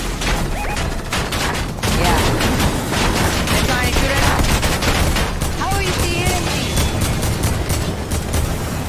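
Rapid gunfire from a Fortnite squads match crackles steadily throughout, dense bursts layered with game effects and voices talking over the action.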